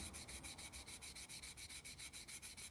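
Rhythmic back-and-forth sanding of a styrene center console for a Corvair, steady close strokes repeating about seven times per second, with no talk.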